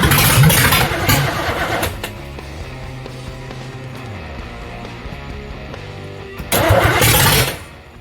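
A Chevrolet Camaro street car engine cranks and catches, then settles into a rough, steady idle while running only on fuel in the float bowls without a fuel pump, with a loud burst of revving near the end.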